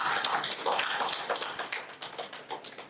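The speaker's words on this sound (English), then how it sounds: "Can we give a round of applause?" Brief, light clapping from a small conference audience after a breakout session, a scatter of individual claps that thins out toward the end, fairly quiet.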